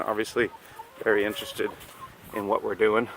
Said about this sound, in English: You will hear my chickens and ducks in the background